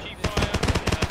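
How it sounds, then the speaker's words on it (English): A machine gun rattles in a World War II tank-campaign game with the 2.Panzer-Division, a steady rapid burst of about a dozen evenly spaced shots, fairly close and punchy, with no voices over it. "MG fire."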